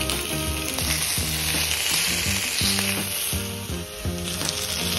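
Steak sizzles loudly on a grooved griddle, the meat oiled directly rather than the pan and seasoned with black pepper, a steady close frying hiss with crackling pops running throughout and no voices.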